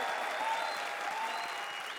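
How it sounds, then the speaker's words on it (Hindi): A crowd applauds with dense, steady clapping that fills the space, sustained throughout at an even volume. "तालियां बजाओ उनके लिए।"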